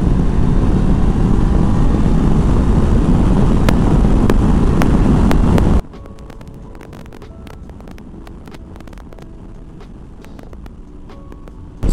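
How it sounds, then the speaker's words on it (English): Voge 500 DSX motorcycle, a 2022 model with a new engine still being run in, accelerating hard from third gear with a loud roaring engine and wind rush, which cuts abruptly to a much quieter, faint background for the rest. "Sad ćemo probati ubrzanje, evo iz treće ćemo krenuti sa 4000"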